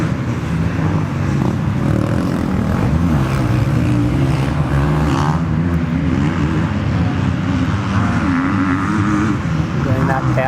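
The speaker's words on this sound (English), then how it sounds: "Cooper Holroyd powering up the hill into Cobra Corner" Motocross bike engine powering up a hill at an MX Open race at Cessnock, a loud continuous roar with shifting pitch that blends with other bikes in lap traffic and is heard under a commentator's voice.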